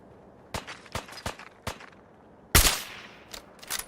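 Video game gunfire from Fallout 4: four or five sharp, separate shots spaced about half a second apart, then a louder blast with a ringing tail, followed by two more quick reports, close and alone with no talk.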